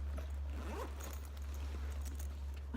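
The zipper on a flight attendant's tote bag pouch is pulled open in a few short, close rasping strokes, quiet against a low steady hum.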